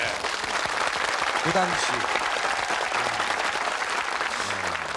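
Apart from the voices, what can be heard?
studio audience applause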